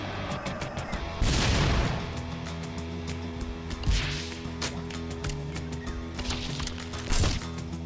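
Gunfire in the tactical RPG Arco as a shotgunner enemy and the player trade shots: three heavy booming blasts spaced a few seconds apart over continuous crackling game noise and background music.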